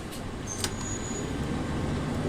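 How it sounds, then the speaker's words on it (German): Bus engine in the OMSI 2 simulator, a loud, steady low rumble with broadband road and cabin noise and a brief click and whine partway through. "Der Bus ist gerade so hochgefahren. War der Motor jetzt so laut?"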